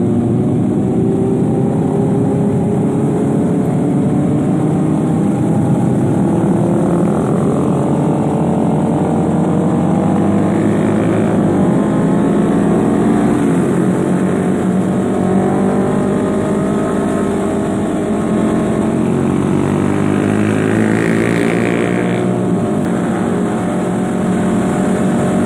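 A continuous roar of several motorcycle engines riding together on a Sunday morning group ride to Kaliurang, loud and steady throughout with shifting engine tones, no voices.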